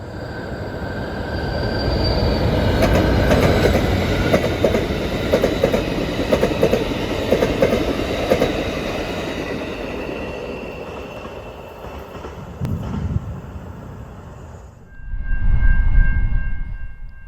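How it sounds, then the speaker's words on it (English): Amtrak 353 passenger train heading west near a hospital on the Michigan Line, passing close by with a loud sustained rumble and wheel noise, fading out before a brief low rumble returns at the end. "Running in an earlier time slot due to the maintenance, Amtrak 353 was next."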